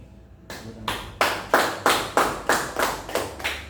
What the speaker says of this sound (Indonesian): Pak berikan dulu aplaus untuk pembelajaran hari ini